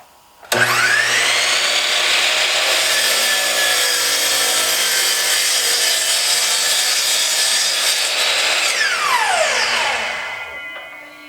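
Bosch GCM-12 glide miter saw cutting through wood: a loud, steady whine starts abruptly and holds for about nine seconds before the blade winds down with a falling tone, heard close and alone.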